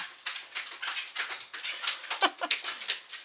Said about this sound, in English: The dogs just came back from a walk, and they're so excited to see me.